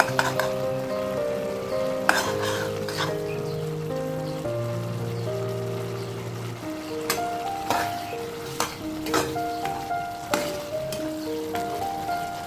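Rui fish head muri ghonto cooks with cumin powder, garam masala and ghee, giving a soft, steady sizzle with light stirring clinks under background music.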